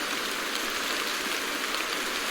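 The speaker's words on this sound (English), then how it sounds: "the rain in the background is also something that a friend of mine suggested" Steady rain ambience hisses continuously in the background, an even wash of falling drops with no voices over it.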